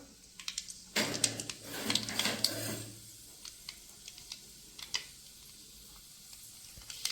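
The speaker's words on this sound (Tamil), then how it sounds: "கடுகு நல்லா பொரிஞ்சிருச்சு" Mustard seeds splutter in hot oil in a pan while cooking a country chicken curry, with a loud crackling sizzle for about two seconds, then scattered sharp pops and ticks that fade out.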